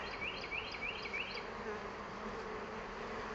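Dense, steady buzzing of honeybees around a spring hive during an inspection, with a caged queen being fed by workers; the close, continuous hum holds throughout with a few faint higher chirps early on.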